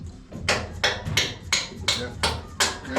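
Steady hammer blows strike metal while an engine is fitted into a race car, about seven sharp, evenly spaced hits, close and loud, over faint background noise.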